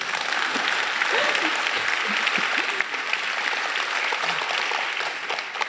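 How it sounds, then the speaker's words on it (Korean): An audience at a science talk on meta-material energy harvesting breaks into steady applause, a dense, sustained wash of clapping with a few sharper claps standing out, with no talk over it. "이때 박수 쳐주시면"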